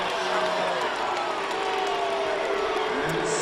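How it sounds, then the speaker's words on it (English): An arena crowd at an NCAA college wrestling match reacts with a sustained, dense roar of disapproval after a stalling call. The wash of voices stays loud and unbroken throughout. "the crowd here in area code 717 does not seem to be pleased with said call"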